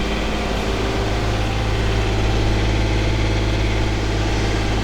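An Allied Infrastructure works vehicle on a Blackpool roadworks site, a spreader among the equipment, idles steadily with a low, even engine rumble that holds constant throughout, close by and unbroken, with no voices.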